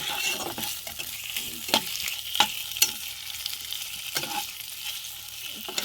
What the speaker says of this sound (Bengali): এই যে মাছের তেলটা দিয়ে ভালো করে একটু ভেজে নেব